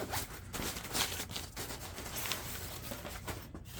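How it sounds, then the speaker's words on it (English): A zipper rasps open in a few quick scratchy pulls, close and fairly loud, with no voices. "Zipper."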